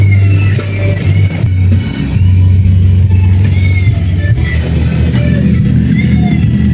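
A truck drives through a flooded road during Hurricane Matthew at Murrells Inlet, South Carolina, its engine droning loud and close, with a rough rumble of water and wind throughout.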